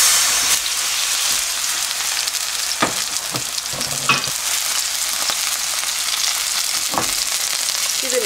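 A chive and oyster pancake made with plain flour fries in plenty of oil, a loud, steady hiss and crackle close by, broken by several scraping and spatula knocks, with no talking.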